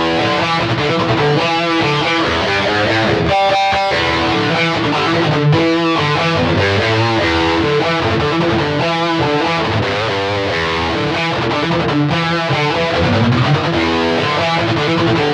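Electric guitar played through a TC Electronic John Petrucci Dreamscape pedal using its tone print presets, sounding loud and continuous with dense, processed chords and runs and no talking.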